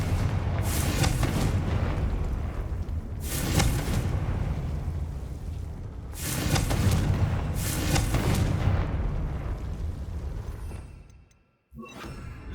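Repeated heavy explosions from the Confringo fire spell in Hogwarts Legacy: several deep, roaring blasts arrive in rough succession, each swelling and fading, before a sudden drop into near silence and a final short burst.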